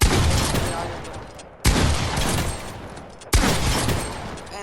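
Rapid automatic gunfire from a first-person shooter, three dense bursts each starting with a sharp loud onset and fading, heard close without any talk.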